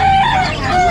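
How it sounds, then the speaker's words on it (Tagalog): A chicken crows close by, a loud drawn-out call filling the short moment with strained, wavering tones. "anong manok to?"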